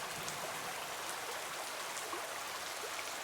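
Steady rain pours down in a cartoon scene where two characters ride a coconut-shell boat, a dense, even hiss of drops and splashing water continuing throughout without voices.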